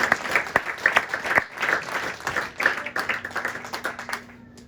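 Congregation in a Pentecostal church service clapping together in steady, lively applause, the dense claps filling the room and tapering off near the end.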